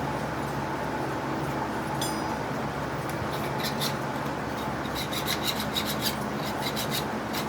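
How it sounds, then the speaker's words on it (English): A hand file rasps back and forth across a small metal lathe part to deburr it, making a close, continuous scratchy stroking with lighter strokes near the end. "I'm going to take and deburr that"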